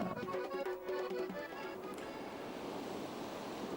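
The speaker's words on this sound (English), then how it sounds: "the waves that hit the rocks" Ocean surf washing against rocks, a steady rushing hiss of waves with some wind, while a faint tonal sound briefly drifts in at the start before fading.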